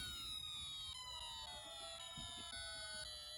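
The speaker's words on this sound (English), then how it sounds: "it will sound like a fire engine siren" A Snap Circuits Extreme SC-750 electronic kit circuit produces a fire engine siren: a loud, steady electronic wail with stacked tones sliding slowly downward, continuous and alone throughout.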